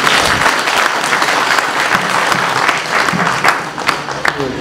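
Applause from a church congregation at a Pentecost service, a sustained loud wash of many hands clapping for several seconds, fading slightly toward the end.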